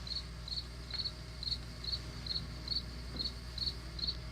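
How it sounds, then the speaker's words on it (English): Crickets chirping: a faint, evenly spaced series of short high trills, about two per second, repeating steadily over a low background hum with no voices. "I realized except those freaking crickets again."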